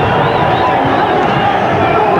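Boxing crowd at the Frankie Warren vs Buddy McGirt fight buzzes and shouts in a continuous loud wash of voices, with a commentator's voice running underneath.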